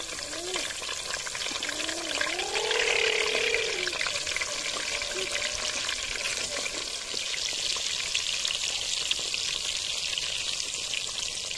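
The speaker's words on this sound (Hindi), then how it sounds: "ये हमने रख दिया बैंगन फ्राई करने के लिए" Eggplant pieces fry in hot oil in a pan, giving a steady, even sizzling hiss that runs throughout, with a brief voice partway through.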